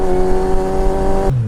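Triumph motorcycle engine held at a steady, loud high rev close by, then the throttle is abruptly cut and the tone drops away.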